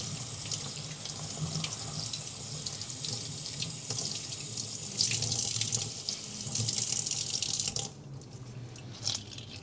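Tap water runs steadily into a sink while rice is rinsed in a grain washer, a continuous splashing hiss that swells, then cuts back briefly near the end before resuming.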